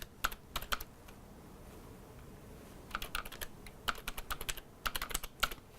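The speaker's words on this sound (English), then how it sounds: "You just type it in." Quick keystrokes on a computer keyboard as a website address is entered in browser settings, close and crisp, one short burst then a longer run of rapid clicks over low room hiss.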